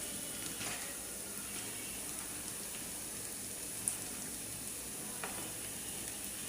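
Onion, garlic and ginger-garlic paste frying in oil in a pan for a salted hilsa curry: a faint, even sizzle with occasional soft stirring scrapes and one small clink.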